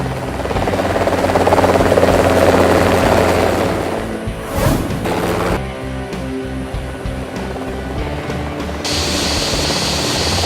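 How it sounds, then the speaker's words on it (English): A toy helicopter roars loudly and steadily with a dense buzzing whir, briefly dipping mid-clip before the droning rotor sound continues. "helicopter"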